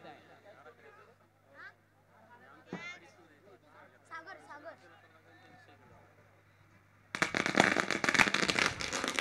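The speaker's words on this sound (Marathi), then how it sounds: "फटाक्यांच्या आतषबाजीमध्ये अर्थातच सन्माननीय आरसी पाटील साहेबांचे या ठिकाणी यथोचित स्वागत होतोय" Firecrackers burst in a rapid, loud crackling volley during a welcome ceremony at a village cricket premier league tournament, arriving after a stretch of faint crowd chatter and announcer talk.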